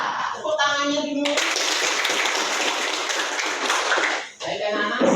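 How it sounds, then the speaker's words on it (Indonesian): A class of students applauds in a classroom, a loud burst of many hands clapping together that lasts several seconds, with speech heard just before and after. "tepuk tangannya dulu."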